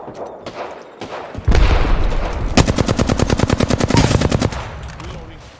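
Gunfire in the Apex Legends video game: a heavy boom, then loud rapid bursts of automatic fire rattle for a few seconds before fading into quieter game ambience.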